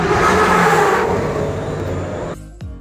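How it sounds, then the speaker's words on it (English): Launch of the Red Force roller coaster in Spain, a loud sustained roaring surge that builds and then fades over a few seconds, with no talking. "has the best launch sound of any ride ever"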